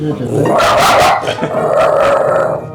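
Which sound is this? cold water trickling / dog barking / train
dog barking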